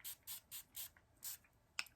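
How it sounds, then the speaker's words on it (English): Makeup setting spray misted in a series of short, soft hissing bursts, about six quick pumps at a steady rhythm, faint and close, followed by a light tap. "you can go ahead and add your setting spray again"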